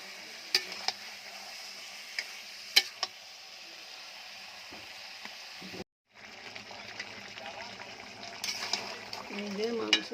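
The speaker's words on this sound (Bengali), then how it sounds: "এই যে মাংসটা কষানো হচ্ছে সুন্দরভাবে। কাঠের চুলায় সুন্দর কষানো যায় ব্রয়লার।" A 3 kg broiler chicken sautéing on a wood-fired stove gives a steady close sizzle with occasional sharp scraping clicks of stirring. Near the middle there is a brief drop to silence before the frying resumes.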